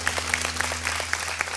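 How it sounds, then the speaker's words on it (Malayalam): An audience claps for a dance performance at a televised stage event, a steady burst of applause with regular claps, moderately loud and without voices. "പ്രത്യേക കയ്യടി."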